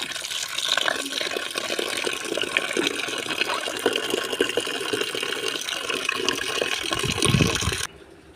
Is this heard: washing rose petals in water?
yes